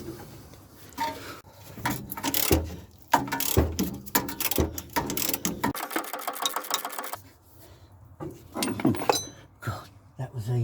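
A ratchet works bolts loose on a Rover K series R65 gearbox during clutch replacement, giving rapid clicking bursts with clanks and tool handling, close by, mixed with a voice talking.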